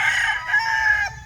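A breeder rooster crows loudly and close by, a single drawn-out call with no voices around it.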